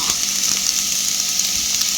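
An egg frying in a pan for a breakfast dish: a steady, close hiss and crackle of hot oil that continues evenly throughout, with no talk.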